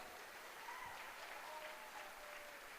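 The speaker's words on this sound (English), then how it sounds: "give yourself a big round of applause for making that choice" A large conference audience in Las Vegas claps in a continuous, fairly distant-sounding wash of applause, steady and unbroken for nearly three seconds with faint tonal whistles or cheers mixed in.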